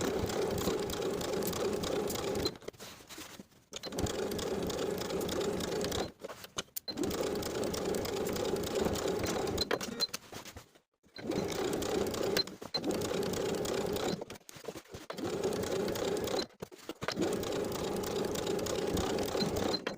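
A sewing machine edge-stitches a pocket onto overalls in four long steady runs of buzzing mechanical whir, each broken by brief pauses, heard close and alone.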